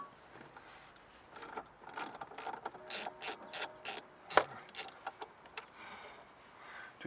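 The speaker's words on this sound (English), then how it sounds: "So now we'll remove the torque bolts." Ratchet with an E8 Torx socket loosening wiper linkage bolts on a 2008 Vauxhall Vectra 1.9 CDTI, a run of quick close clicking bursts in uneven rhythm.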